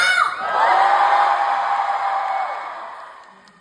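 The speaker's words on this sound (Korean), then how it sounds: "다 같이 소리 질러!" A theatre audience at a curtain call for the musical Jekyll and Hyde erupts in loud, sustained cheering, whooping and shouting that swells quickly, holds, then slowly fades.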